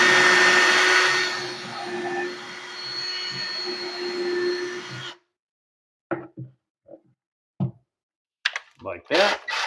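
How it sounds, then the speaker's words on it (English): A drill spins up to cut a countersink into a Home Depot cabinet, whirring loudly and steadily for several seconds before stopping abruptly. A person then talks over short, faint handling noises. "And then I still got to do a countersink."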